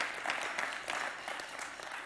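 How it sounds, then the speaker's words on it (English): A church congregation at a worship service breaks into applause, a steady wash of many hands clapping at moderate distance, fairly quiet and sustained throughout. "And you can clap. That's worth clapping for."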